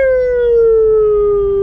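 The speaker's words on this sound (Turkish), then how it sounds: "Amca sirenleri yak!" A vehicle siren sounds loud and close as a single long wailing tone that slowly falls in pitch, with no talk over it.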